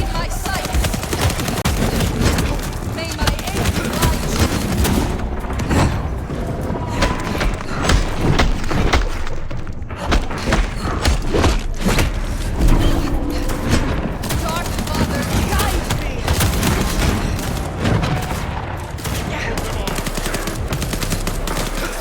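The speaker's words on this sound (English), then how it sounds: "We're still shooting each other somehow." Gunfire in the Vampire: The Masquerade Bloodlines 2 video game, with dense, continuous bursts of shots and thuds running throughout, heavy and close, with voices talking over the fight.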